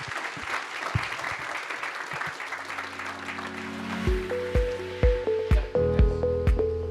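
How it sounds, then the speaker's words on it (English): Audience applause at a migrant workers' health conference: a broad wash of clapping for the first few seconds that fades, giving way to sustained piano-like tones and repeated soft struck notes. "A big round of applause, please."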